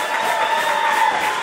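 Wrestling crowd cheering wildly, a thick, constant roar of voices holding at an even, loud level across a short stretch.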